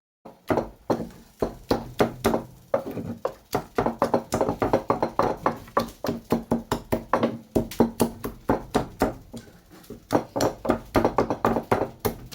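Cooked okra is mashed with a steady run of rapid, close knocking thuds that keep a fairly even rhythm throughout.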